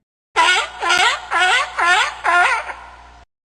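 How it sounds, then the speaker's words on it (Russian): A sea lion barks five times in a steady rhythm, loud, hoarse and close, with the last bark trailing off into quiet. "Морской лев."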